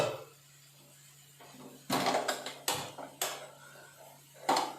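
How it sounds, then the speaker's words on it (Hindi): A metal kadai (wok) is picked up and set down in a home kitchen, a handful of sharp clanks and knocks in an uneven rhythm over a low steady hum, close and moderately loud, no talk. "तो अब हम लोग हमारा एक और कढ़ाई ले रहे हैं"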